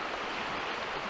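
The James River in Richmond, Virginia rushes past as a constant, dense wash of flowing water, steady and fairly close with no voices.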